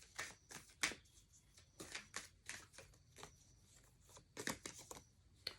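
Tarot cards are shuffled and drawn, giving a run of crisp riffling and flicking bursts at close range in an otherwise quiet room, with no talking.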